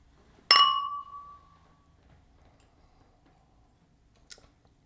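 Wine glasses clink once in a toast, a bright, close ringing chime that decays over about a second, followed by quiet and a faint second tap.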